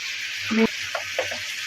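Ginger garlic spice paste fries in a pan with a steady, soft sizzle, and a brief clink and scrape of a stirring spoon comes partway through.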